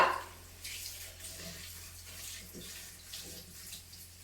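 Water pours in a soft, steady stream into a bowl of puffed rice, close by and fairly quiet, with no talking.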